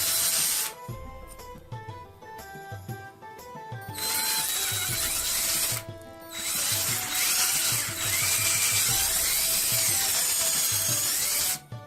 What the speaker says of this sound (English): we'll move the bit over just to the edge of this first hole and drill that out